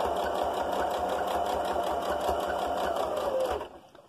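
A sewing machine stitching a fabric face covering runs as a steady close mechanical whir with a rapid needle rhythm, then stops abruptly near the end.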